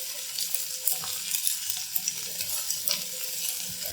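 Okra frying lightly with onions in a pan for bhindi masala, a close, steady sizzle with small crackles and occasional stirring clicks, no talk.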